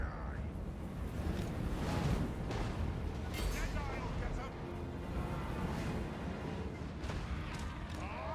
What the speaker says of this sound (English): I think those are cannons that they're firing on me.